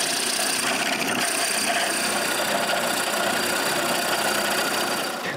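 Drill boring a leg-sized hole through a wooden block while cutting out nutcracker shoes, a steady loud whir running continuously throughout with no talk.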